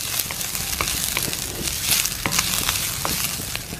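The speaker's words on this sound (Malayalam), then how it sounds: "ഇത് വറുത്തെടുക്കണം" Beef and ginger frying in a heavy Chinese kadai, a close crackling sizzle with popping spatters and occasional stirring scrapes, no talk.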